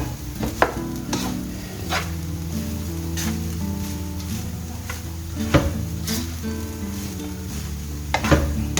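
Egg fried rice with vegetables stir-fried in a pan, a steady sizzle broken by repeated scraping strokes of a utensil against the metal, close and continuous with no talking.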